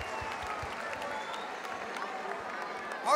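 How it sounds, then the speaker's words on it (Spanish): Applause from the audience at a Chile vs Peru freestyle rap battle semifinal, a faint, distant wash of clapping and crowd noise with a voice breaking in at the very end. "Un fuerte aplauso para ustedes,"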